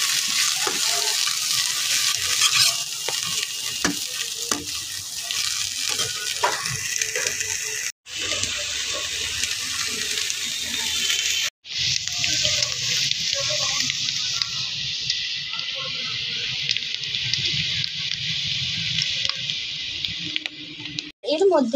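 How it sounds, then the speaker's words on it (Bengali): Onion and green chili fry in oil for egg chowmein, giving a continuous close sizzle that runs the whole stretch with a couple of brief breaks while a voice talks over it. "এবার এর মধ্যে দিয়ে দিচ্ছি পেঁয়াজ আর কাঁচা লঙ্কা, দিয়ে ভালো করে ভেজে নিচ্ছি"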